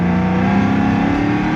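An 850-horsepower Cadillac CTS-V pulls hard in third gear from a roll, its engine a loud, steady, close drone that holds for the whole stretch with no speech.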